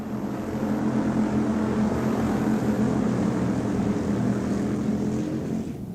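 Hobby stock race cars roar around a dirt speedway in a continuous loud engine drone from a pack running together, steady and unbroken throughout.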